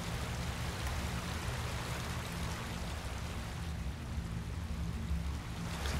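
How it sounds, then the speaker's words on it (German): A waterfall in Enderal, down in the sewers of Nebelhaim, pours steadily as a dense, even wash of rushing water, loud and unbroken throughout. "Ein Wasserfall."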